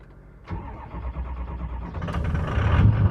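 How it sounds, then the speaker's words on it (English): A Ford 6.0 truck engine, unused for two weeks, cranks briefly and then catches, settling into a rough idle that swells louder toward the end, close by. "hope this thing starts, because it hasn't been drove in like 2 weeks"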